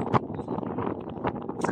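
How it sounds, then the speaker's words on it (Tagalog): Gusty wind buffets the microphone in rough, uneven rumbles at Twin Peaks, San Francisco, loud and close, with no clear talking. "masyadong mahangin"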